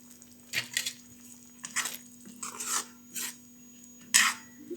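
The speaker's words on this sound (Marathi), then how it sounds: "आता आपण कस्तुरी मेथी घालूया. थोडंसं चोळून त्याला घालायचं" Dried fenugreek leaves (kasuri methi) crushed between fingers over a pan of peanut curry: five short, faint, dry rasping rustles, each a brief burst separated by quiet, with a low steady hum beneath.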